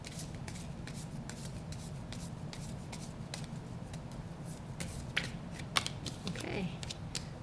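Tarot cards being shuffled and handled by hand, a steady soft riffling and rubbing with a few sharper slaps and flicks, close and fairly quiet, with no talking.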